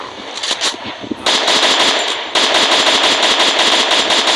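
Rapid automatic gunfire in a video game, loud and close, arriving as dense sustained bursts after a few scattered opening shots, with no talk.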